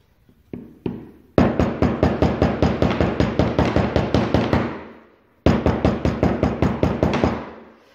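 Sharp knocks of a chisel driven into hard maple, two isolated strikes followed by a long rapid string of loud, evenly spaced blows, a pause, then another quick burst that tapers off.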